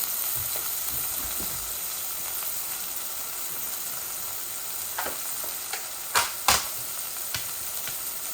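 Chicken frying in oil with ginger and garlic paste added, a steady hiss and sizzle throughout, with a few sharp spatters and stirring knocks near the end.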